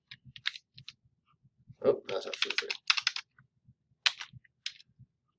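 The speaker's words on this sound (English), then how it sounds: "And so now I can start typing in here." Computer keyboard typing into a spreadsheet cell, heard as scattered close clicks and short bursts of keystrokes, with a faster flurry in the middle, alongside brief speech.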